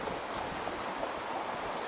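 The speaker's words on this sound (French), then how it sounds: "Vous pouvez écouter les vagues, les oiseaux, les chants," Ocean waves wash steadily along an outdoor shore used for nature yoga, forming a soft, continuous broadband hiss with a hint of wind and no distinct breaks.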